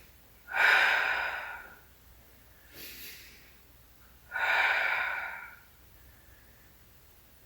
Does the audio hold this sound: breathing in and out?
yes